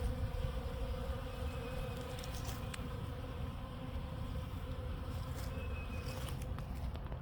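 Honey bees buzz steadily around a pollen feeder outdoors in January, a continuous low drone of many insects at moderate distance, with no talk.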